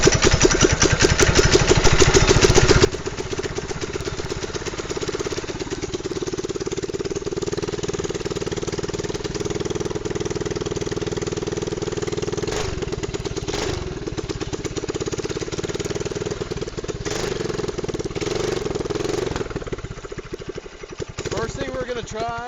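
A mini bike's small engine runs after a carburetor swap, opening with a loud revving burst, then settling into a steady buzzing idle with occasional blips, while a person talks over it.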